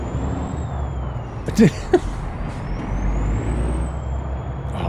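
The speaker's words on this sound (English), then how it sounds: "I love the sound of this engine." A car engine drones steadily in a driving video game, with a couple of short hissing brake bursts partway through and a faint whining tone above; a voice briefly exclaims.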